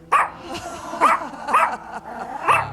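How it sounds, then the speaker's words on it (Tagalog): Several dogs bark in short, sharp bursts, four barks spaced about half a second apart, fairly close and clear against a quiet background. "Tahol ng tahol ang mga aso"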